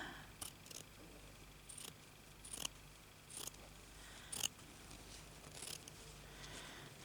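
Scissors snipping through fabric for a crazy patchwork bag, about nine quiet, separate cuts spread irregularly over a low steady background hum, close up, with no talking.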